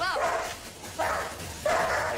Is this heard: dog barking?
yes